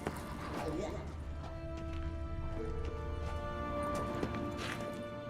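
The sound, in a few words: horse hooves in video game The Witcher 3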